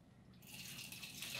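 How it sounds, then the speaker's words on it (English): Dirty water drains from a LifeStraw Family gravity filter, a faint, steady trickle and hiss that swells after a short quiet start and runs on without pause. "we're ready to bleed off some of the excess dirty water"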